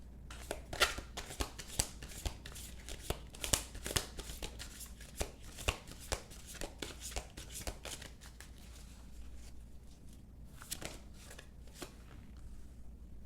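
Tarot card deck being shuffled by hand, a close series of crisp riffling slaps and flutters in irregular bursts, with quieter gaps between.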